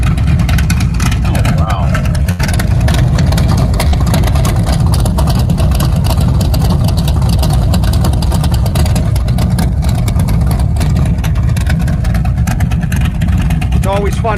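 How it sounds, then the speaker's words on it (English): A muscle car engine runs with its exhaust cutouts open, giving a loud, steady, deep rumble that never lets up, with a brief exclamation from a person partway through. "And that's your sound with the exhaust cutouts."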